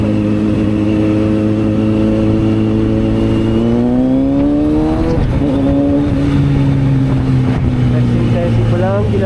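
A Kawasaki Z900SE motorcycle engine during a night ride in road mode holds a loud, steady drone, rising in pitch as it revs up mid-ride and then easing back into a lower cruise, with constant wind noise and no talking.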